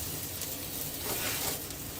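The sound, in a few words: vegetables sautéing in a pan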